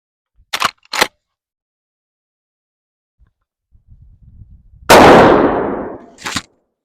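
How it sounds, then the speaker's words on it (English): A Marlin 1895 Trapper SBL lever-action rifle fires one loud, booming shot into a melon, and the blast decays over about a second. A few sharp mechanical clicks come before it, with another brief click just after. "That's what we're going to use first to shoot the melon."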